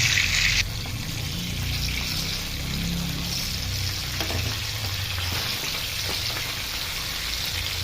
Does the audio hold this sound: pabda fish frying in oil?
yes